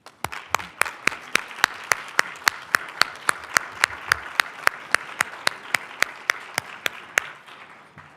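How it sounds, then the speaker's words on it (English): Graduate students at a white coat ceremony applaud their families, a loud, steady round of clapping with sharp regular beats that carries on for several seconds and then stops near the end. "give your spouses, parents, siblings, children, or other special guests a round of applause"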